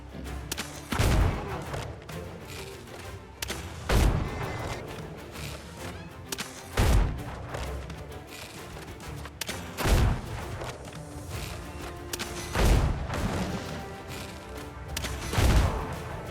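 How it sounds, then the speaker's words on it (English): Musket gunfire in the video game Windrose as a player blasts a boss boar: a series of single sharp shots spaced a few seconds apart over quiet background music, with no talking. "pulled out my musket and started blasting the boss boar"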